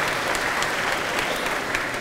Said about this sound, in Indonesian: boleh tepuk tangan buat Gajah Mada